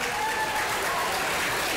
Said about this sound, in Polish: Kamilusz Drozda, Marian Krzaklewski, wielkie brawa.